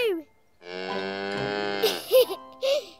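A cow on a farm gives a long, drawn-out moo close by, loud and clear. A few short voiced sounds follow that could be a person imitating the mooing.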